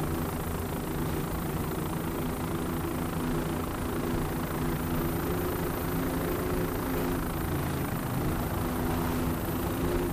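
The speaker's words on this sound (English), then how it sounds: "29-foot fountain powered by one 500 horsepower Mercury inboard" A single 500 horsepower Mercury inboard engine driving a 29-foot Fountain race boat at an offshore grand prix, heard as a steady, loud, droning roar that holds constant without pause.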